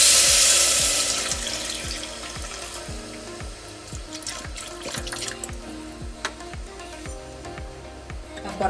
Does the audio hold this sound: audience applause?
no